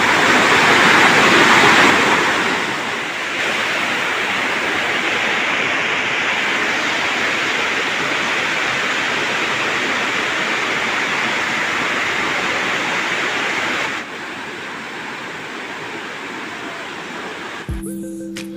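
Palongkhiya waterfall in Bandarban rushes close by as a constant, dense roar that eases slightly partway through and softens near the end.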